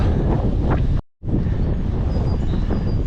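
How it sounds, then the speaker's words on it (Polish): Icy north wind buffets the microphone with a loud, continuous roar, cut by a brief moment of silence before gusting resumes. "Lodowaty, lodowaty wiatr z północy."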